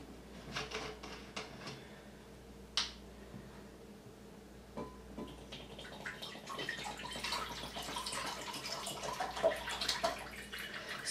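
Water carrying dissolved toilet paper being poured out of a container, a soft splashing trickle that grows busier and louder toward the end, with a few sharp clinks earlier and no talking.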